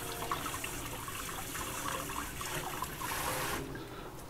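Tap water runs steadily while a red onion is rinsed underneath, a continuous close splashing trickle that swells slightly toward the end, with no voices over it.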